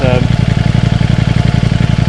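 A Ducati Streetfighter V4S motorcycle with an aftermarket exhaust rumbles loudly in a continuous, pulsing low drone while riding in rush-hour traffic, with a voice briefly heard at the start over the engine.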